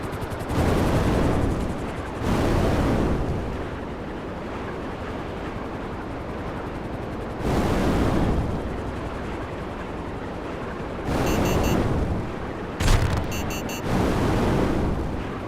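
Heavy bombing blasts in GTA Online dropped from a plane: long booming rumbles erupt about every few seconds, each swelling and fading into a steady roaring drone, with sharper cracking bursts near the end.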